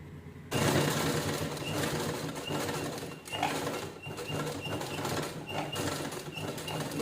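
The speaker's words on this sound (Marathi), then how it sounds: "व्यवस्थित शिलाई लॉक करून घ्यायची." A sewing machine stitches a purse seam with a steady, close mechanical whirr and a faint rhythmic tick, running without a break after a quiet start.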